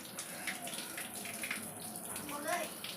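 Running water splashes steadily as a boy washes himself with soap during a bath, a continuous wet hiss with small splashes, close and moderately loud.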